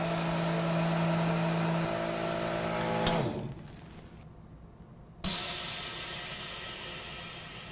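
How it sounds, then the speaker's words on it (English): An MVS45XP tabletop vacuum sealing machine with internal suction runs with a steady whirring hiss, clicks as its lid closes, drops to a quieter drawing sound, then clacks and resumes a louder hum. "As I close down the vacuum machine now,"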